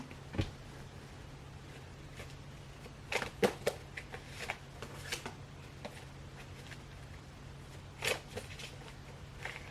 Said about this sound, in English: my shuffling has gotten progressively worse